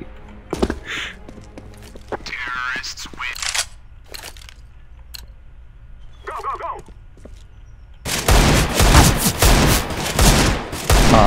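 Gunfire rings out in Counter-Strike: Global Offensive in a run of sharp shots and short bursts, then becomes a dense loud volley near the end, while players talk over it.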